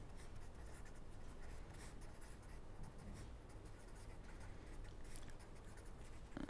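Steady chalk or pen scratching as a lecturer writes by hand during a multivariate analysis lecture, a continuous close scraping texture with no talking.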